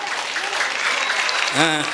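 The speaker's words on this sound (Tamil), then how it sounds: "அனைவரும் சேர்ந்து ஒரு கைத்தட்டலை கொடுக்கலாமா?" An audience at a school annual day claps in a dense, sustained burst of applause that continues throughout, and a voice speaks briefly near the end.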